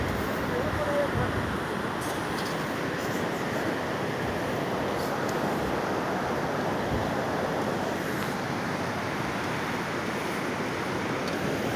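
Sutlej river water flowing down from Nangal, a steady broadband rush of current with wind buffeting the microphone, loud and continuous throughout.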